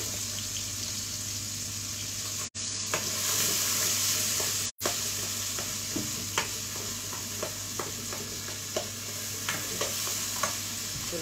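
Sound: onions and tomato frying in a hot pot

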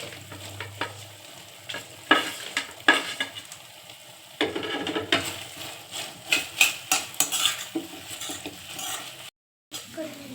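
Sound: stir-frying fried mushrooms for mushroom manchurian in pan

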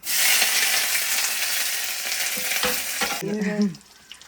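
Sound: mustard seeds spluttering in hot oil for tempering

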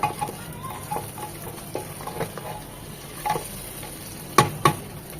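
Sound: onion and tomato frying in ghee for moong dal

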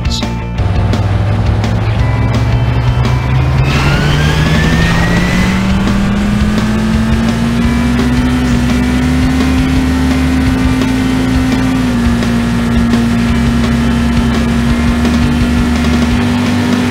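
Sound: car engines starting and revving in the video game City Racing 3D

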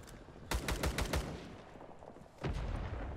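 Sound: gunfire from a gun in the video game Rising Storm 2: Vietnam

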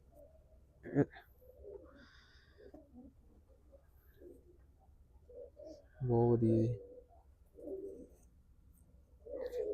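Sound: pigeons cooing

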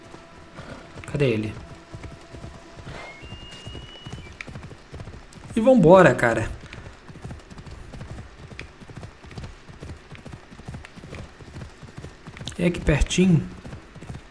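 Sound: horse galloping, hooves clip-clopping, in video game Assassin's Creed Odyssey

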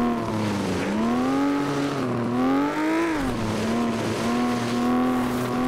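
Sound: race car engine and tires in the video game FlatOut

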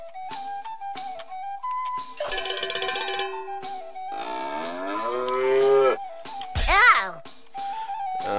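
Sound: cow mooing in a video game

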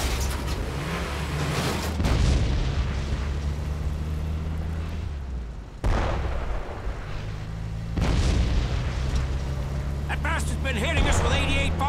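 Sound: German 88 artillery firing and exploding, from a video game

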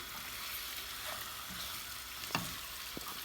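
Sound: stirring bulgur in a cooking pot

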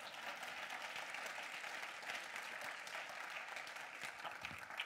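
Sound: congregation applauding and cheering

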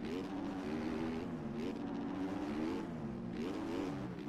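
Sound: motocross bike engine revving, from video game MX Bikes

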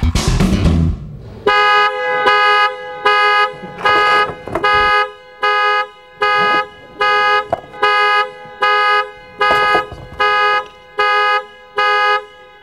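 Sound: car alarm sounding

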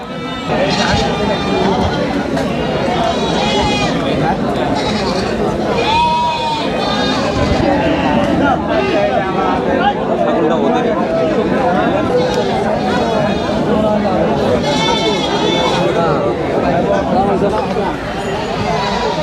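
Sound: goats bleating at a livestock market

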